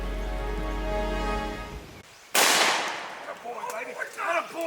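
A single sharp, loud gunshot cracks out during a hunt, cutting off a sustained low tone and followed by a rustling, scuffling aftermath.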